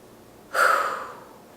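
A single forceful exhalation during a deep diaphragm breathing exercise for singers, a breathy rush of air that starts abruptly, then tapers off over about a second, close and alone.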